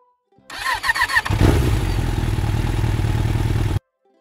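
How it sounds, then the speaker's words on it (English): A motorcycle engine cranks with a quick clattering starter, catches with a burst, and settles into a loud, steady rumbling idle for a few seconds before cutting off abruptly. "Motorcycle."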